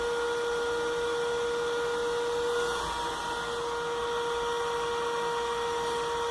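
A small hair dryer with a built-in diffuser runs steadily with a constant whirring drone and a clear tonal whine, close and alone throughout.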